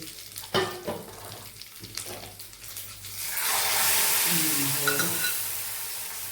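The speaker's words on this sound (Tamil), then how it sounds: "இப்போ நம்ம தாளிப்பு அதில் ஊற்றிடுவோம்" Hot tempering poured into Tirunelveli sodhi, a coconut-milk stew, bursts into a loud, steady sizzle after a few soft clinks and stirring sounds, holding close and bright for several seconds.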